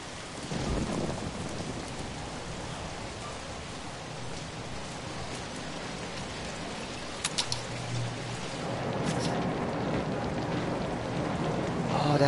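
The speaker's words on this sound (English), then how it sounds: "Oh, listen to the wonderful rain," Rain falls steadily with low rumbling thunder in the PS4 video game Zombi, a continuous wash of downpour with a few brief sharp clicks and a swelling rumble later on.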